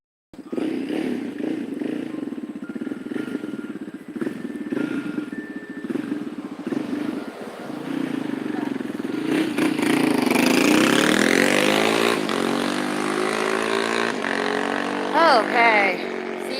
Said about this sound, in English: And here comes a motorcycle.